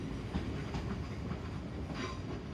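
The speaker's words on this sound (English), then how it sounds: "This is the train that brought me in from London" Steady rumble of a Class 350 electric passenger train departing Platform 3 at Northampton, with a faint rhythmic clatter of wheels, continuous and fairly close, with no voices.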